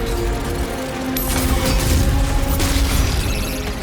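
Dense, loud gunfire and mechanical clatter from the video game Doom: The Dark Ages, a continuous barrage of shots and booms blending into a sustained roar with no talk.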